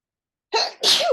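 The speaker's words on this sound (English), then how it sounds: "I'm gonna sneeze." A single close human sneeze, a short sharp intake burst followed immediately by a louder explosive release, heard alone in otherwise quiet surroundings.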